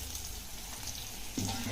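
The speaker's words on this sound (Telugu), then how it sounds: "బజ్జీలు ఫ్రై చేసుకుందాం." Chilli bajji fritters frying in hot oil, a soft, faint continuous sizzle with a brief stir or splash toward the end and quiet talk nearby.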